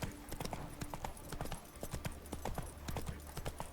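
Horse hooves clip-clop at a steady riding rhythm in The Witcher 3, the hoofbeats close and clear over a low ambient bed for several seconds.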